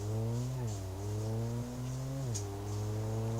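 Car engine in BeamNG.Drive, a custom-built vehicle, revs up steadily through the gears with rising pitch and two clear shift dips, loud and close.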